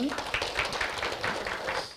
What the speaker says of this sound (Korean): 이럴 때 여러분 박수가 필요합니다.